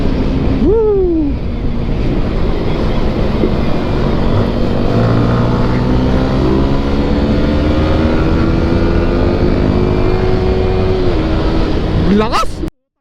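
A Honda Dash 110 motorcycle on its first ride runs loud and close, its engine note rising and falling as it revs, with wind rushing past and voices talking and exclaiming over it.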